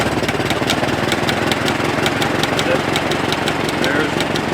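A 1913 Regal Underslung car engine running just after a crank start, with a steady fast chugging idle and regular ticking, loud and close.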